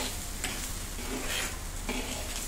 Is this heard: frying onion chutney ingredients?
yes